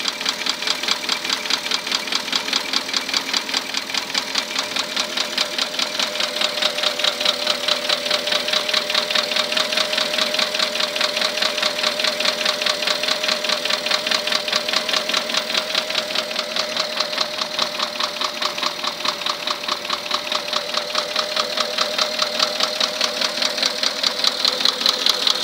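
Porsche Cayenne 4.8 V8 idling with a worn, scored fifth cylinder and damaged piston, producing a rapid, steady metallic knock that ticks evenly throughout, close and loud with no talking.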